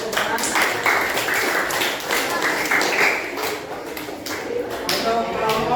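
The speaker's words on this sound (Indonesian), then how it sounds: "Beri tepuk tangan." Classroom applause from students, a dense, steady patter of many hands clapping for the length of the clip, fairly close and moderately loud, with a few voices mixed in.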